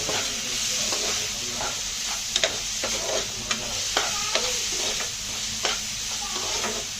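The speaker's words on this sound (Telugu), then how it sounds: "ఇది కొంచెం సిమ్లో పెట్టి ఒక పది నిమిషాలు బాగా వేయించుకోండి" Eggs frying with masala powder in a pan, a bright continuous sizzle broken by short scraping strokes and light clinks of the spatula at an uneven pace, no voices.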